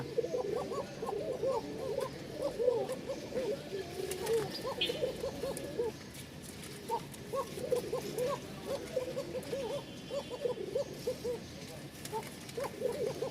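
A pet bird in a home breeding setup gives long, thin calls over and over, in a steady rhythm of soft, moderately close notes with a brief pause partway through. Faint background noise runs underneath.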